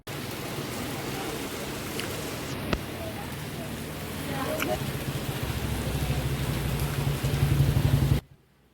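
Heavy rain hisses steadily throughout, swelling louder toward the end before cutting off abruptly; a faint low hum sits beneath.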